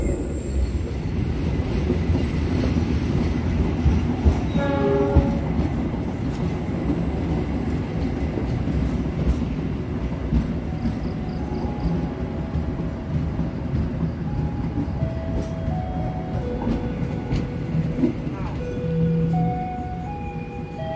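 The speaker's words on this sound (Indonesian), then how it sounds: "Kereta api Pangandaran persiapan masuk stasiun Cipendei." The KA Pangandaran passenger train rumbles continuously at close range as it enters Cipendey station, wheels clattering and brakes squealing in rising tones as it slows.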